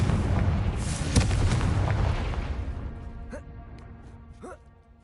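Confringo spell explosion in a wizarding video game, a loud booming blast with a sharp crack, rumbling and gradually fading under game effects and faint chiming tones.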